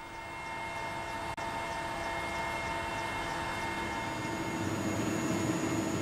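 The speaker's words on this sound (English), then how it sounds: "We flew there in a warlord's helicopter." A warlord's helicopter flying over northern Afghanistan toward Balkh, a steady droning engine and rotor roar with a constant whine, loud and unbroken throughout with no voices.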